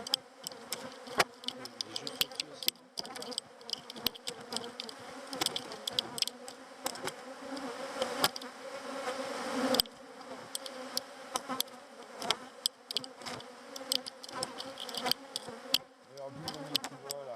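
Honeybees swarm and hum in a dense, continuous drone at an open hive with brood and the queen inside, punctuated by close, sharp clicks and knocks as frames are handled.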